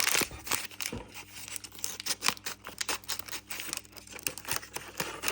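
Crinkly plastic packet from a LOL Surprise doll unboxing rustling and tearing open, close up, in a quick irregular series of rips and crackles with no talking.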